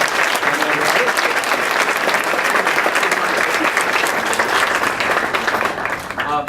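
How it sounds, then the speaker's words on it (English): Loud, sustained clapping from a crowd at a student success dinner, dense and even before thinning out in the final moment. "So can we give her a round of applause for supporting?"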